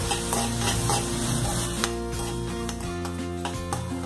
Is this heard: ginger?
yes